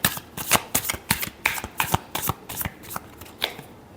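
A deck of tarot cards being shuffled close up, with a steady run of crisp riffling slaps and flicks repeating roughly every quarter second, alone without talk.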